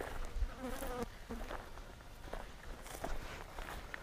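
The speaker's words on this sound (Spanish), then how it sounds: "Me están comiendo las moscas, chaval." Flies buzz around outdoors near the Río Lobos canyon cave, faint whining passes drifting close and away over soft footsteps and low ambient noise.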